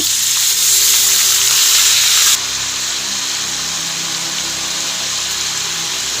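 Masala of tomato, garlic and onion hitting a hot pan: a loud, dense hiss of frying that drops abruptly partway through to a quieter, steady sizzle close by.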